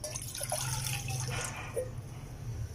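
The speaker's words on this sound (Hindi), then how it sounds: "आधा किलो, उतना ही मैंने पानी डाल दिया" Water pours into a pan for sugar syrup, a steady close splashing stream with faint dripping and no voices.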